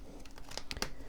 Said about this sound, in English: let's go ahead and get a shuffle in here for you